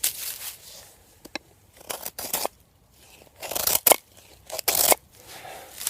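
A knife carving wood and cutting shavings, heard as close, bursty scraping and crunching strokes separated by brief pauses, several firm cuts in a row.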